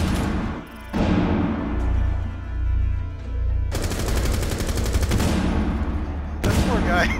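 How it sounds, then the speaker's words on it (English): Automatic gunfire from a machine gun in Rainbow Six Siege during a house team deathmatch, sustained rapid bursts with a short gap and a final burst, loud and close against game background noise. "this machine gun thing works like crazy"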